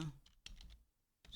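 Computer keyboard typing, a few quick close clicks of keys in short bursts with a gap between, faint and dry.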